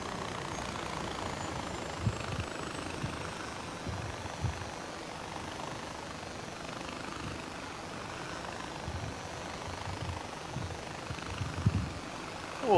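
A helicopter in Far Cry 4 runs at idle, a steady low rotor and engine drone with faint rhythmic throb holding evenly throughout, with a few small clicks near the end.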